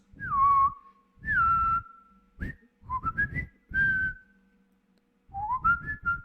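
A person whistles a series of short modulated blasts, six or so bursts with falling and rising pitches separated by brief pauses, close and clear, imitating a whistle.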